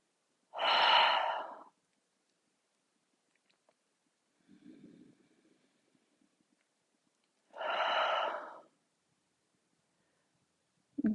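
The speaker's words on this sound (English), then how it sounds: "continue breathing however you need to. It could be in and out through your nose or your mouth" Slow, deep breaths during a relaxation exercise: two long, loud exhales spaced several seconds apart, with a softer, quieter breath between them. No talking.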